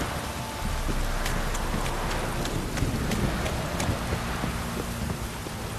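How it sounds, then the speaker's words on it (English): Steady rain falls in The Witcher 3: Wild Hunt, a constant hiss of downpour with scattered droplet ticks and low rumbling wind underneath, with no talk. "If it don't stop raining,"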